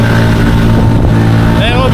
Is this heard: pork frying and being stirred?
no